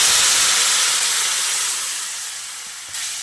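Warm water poured into a hot pan of sautéed potato and snake gourd with spices, giving a loud, close, continuous hiss and steamy sizzle that slowly fades, with no voices.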